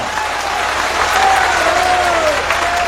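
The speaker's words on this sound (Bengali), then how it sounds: "একবার হাততালি হয়ে যাক জুডিশিয়ারির জন্য" Large crowd applauding at a political rally in Sandeshkhali, a loud, even wash of clapping throughout with a faint voice or whistle rising over it midway.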